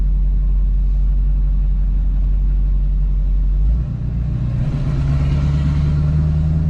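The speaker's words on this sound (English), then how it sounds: "This thing sounds hilarious with the open downpipe." A Duramax-swapped GMC Yukon with an open downpipe drives along, its deep loud engine rumble droning steadily, then shifting pitch midway as it pulls away.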